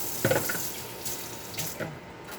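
Water runs steadily from a kitchen faucet into the sink, with a few clinks and knocks as a bowl is set down, close and fairly quiet.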